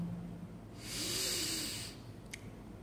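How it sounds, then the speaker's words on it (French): A deep inhalation drawn during a guided breathing exercise, one long, close, airy breath swelling and fading over about a second, with a brief sharp sniff just after. "Inspirez encore."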